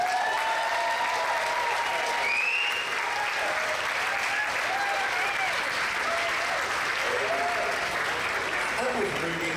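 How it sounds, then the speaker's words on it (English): Steady, dense audience applause at a musical variety show, a continuous roar of many hands with scattered voices and cheers mixed in throughout. "Give my baby a hand clap."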